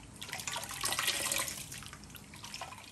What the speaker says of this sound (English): the more you squeeze and massage your coconut like this, the more white the water will get